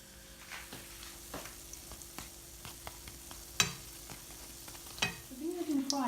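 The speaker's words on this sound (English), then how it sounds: "These have been frying on a medium-high heat for about 4 minutes." Dahi barhe lentil fritters fry in hot oil over medium-high heat, a steady soft sizzle with scattered crackles and pops and occasional stirring scrapes, close and fairly quiet.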